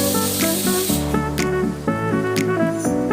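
Onion paste dropped into a hot pan while cooking paya saalan sets off a loud, steady sizzling hiss over a tonal, musical background.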